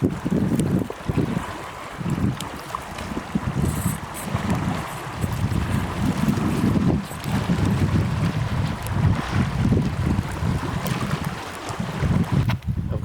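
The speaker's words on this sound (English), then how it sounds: "wind is kicking up." Strong wind gusting across a remote island in Canada's Northwest Territories, a steady roaring rush with buffeting microphone noise that swells and eases throughout, with no voices.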